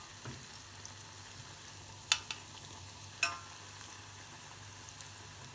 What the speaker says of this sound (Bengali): ডাল, পেঁয়াজ, তারপরে কাঁচামরিচ, কালো জিরা, এই সমস্ত দিয়া এই যে ভাজতাছি।